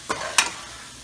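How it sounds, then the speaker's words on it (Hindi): Eggplant bharta sizzles softly in a pan as a spoon scrapes through it twice, two brief stirring strokes over a faint, steady frying hiss. "इसको 2 मिनट तक हम भूनेंगे।"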